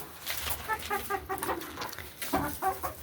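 Backyard chickens cluck and murmur softly in short, repeated bursts while pecking at kitchen scraps such as lettuce, close by and fairly quiet, with no talking over them.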